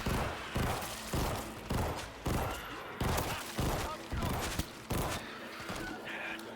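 Steady rhythm of loud gunshots from a pistol in the video game World War Z, about ten evenly spaced booming shots fired one after another with no talking.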